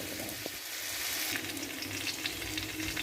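Grated paneer goes into a cashew-tomato spice paste frying in a pan, with a steady, close sizzle and stirring that runs throughout, no voices.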